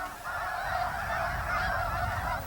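Geese honk in a dense, continuous chorus across Saskatchewan marshland, a large flock calling steadily at moderate distance with no voices.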